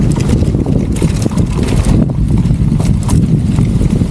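Strong wind roars and buffets the microphone outdoors near a bridge in Canmore, a loud, continuous rumbling gust with no voices.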